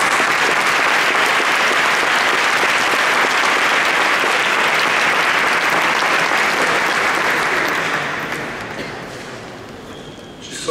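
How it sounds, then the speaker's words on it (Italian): Audience at the inauguration of showers and a laundry in Genoa gives a warm round of applause to welcome guests, steady and dense, fading out over the last few seconds. "li accogliamo con un bel applauso."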